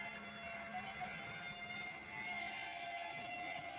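A rail installation machine for a bullet train line starts to move outdoors, giving a steady mechanical drone with a sustained whining tone and low rumble, moderately distant.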